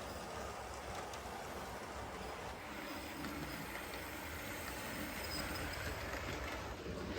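A model train runs on a layout with a faint, steady rolling rumble and light wheel hiss, distant and quiet, with no talk.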